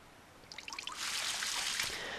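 Forest water poured onto a wilted tree in The Legend of Zelda: The Wind Waker, a short burst of bright dripping notes that gives way to a sustained, hissing splash of pouring water at moderate volume.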